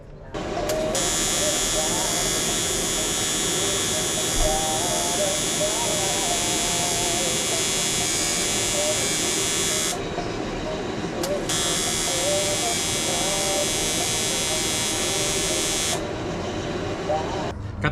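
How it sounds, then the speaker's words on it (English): Tack welding on an aluminum intercooler charge pipe for a turbo K-swapped 96-00 Civic, a steady harsh electric buzz running almost unbroken, loud and close, with two brief pauses. "Got the first charge pipe all tack welded up."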